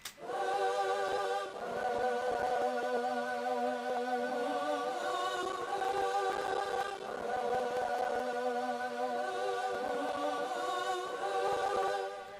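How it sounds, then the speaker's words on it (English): Layered choir pad in a West Coast hip-hop beat holds sustained, wavering vocal chords with gliding low notes beneath, smooth and continuous throughout. "And the choir sounds like this."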